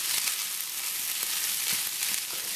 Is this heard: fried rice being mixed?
yes